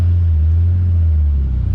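A Chevrolet Opala Diplomata coupe with a 250-S engine idles with its choke pulled, a loud, steady low rumble holding close and even throughout with no voices.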